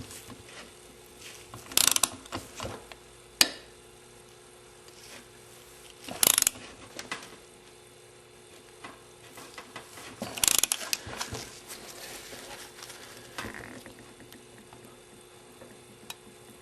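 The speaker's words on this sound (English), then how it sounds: "This is my foot-pound torque wrench." A foot-pound torque wrench ratcheting in short, sharp bursts of rapid clicks, separated by quiet pauses and recorded close up during a pump install, with no voices.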